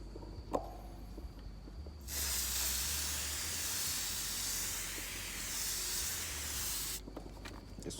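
An aerosol can sprays a second coat onto a car headlight, one steady close hiss lasting about five seconds over faint background noise, which then stops abruptly.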